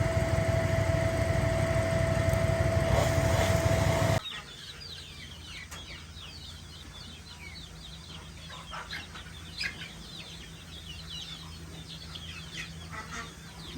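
Chickens and a rooster cluck softly in a rain-soaked coop, scattered near and far calls sounding under a low steady background, after a loud engine-like drone cuts off abruptly at the start.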